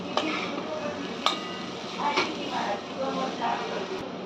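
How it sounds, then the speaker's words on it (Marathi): A spoon stirs jackfruit vegetable curry in a pan, scraping and clinking against the metal in uneven strokes with a few sharp taps, moderately loud amid a soft background hiss. "आता एक जरा सर्व मिक्स करून घेऊया"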